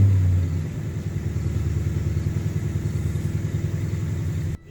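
A Ford F150 with a Coyote 5.0 V8 and Magnaflow exhaust rumbles at idle, a steady pulsing low burble that loudens briefly at the start before settling, then cuts off abruptly near the end.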